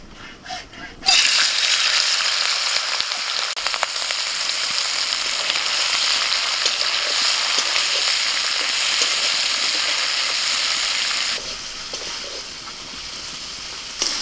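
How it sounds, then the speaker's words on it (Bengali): Prawns fry in a pan with a loud, steady, hissing sizzle that starts abruptly and holds for about ten seconds before dropping to a quieter level near the end. "চিংড়ি মাছগুলো ভেজে নেব"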